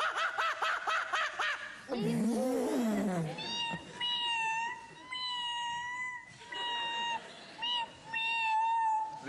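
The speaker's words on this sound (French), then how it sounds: "Le chat?" Several drawn-out cat meows repeat one after another, mixed with snickering laughter and whooshing sounds.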